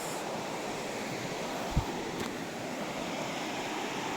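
A mountain river flows steadily nearby, a constant broad rushing wash with one brief low thump partway through.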